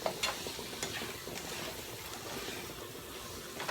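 Shrimp stirred and frying in rendered bacon fat in a pan, giving a steady soft sizzle with light scraping stir sounds throughout, close and fairly quiet, no talking.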